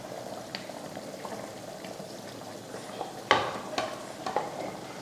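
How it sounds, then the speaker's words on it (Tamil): Anchovies dropped into a simmering Tamil fish curry (meen kulambu): a low, steady bubbling simmer with a few soft splashes and sizzling pops as the fish go in, close and with no talking. "இப்போ இதில் மீன் சேர்த்துடலாம்."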